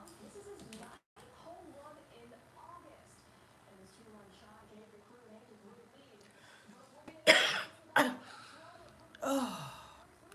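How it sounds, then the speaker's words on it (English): A person talks quietly for several seconds, then coughs three times: sharp, loud bursts spaced about a second apart, the last one trailing off. "Excuse my cough"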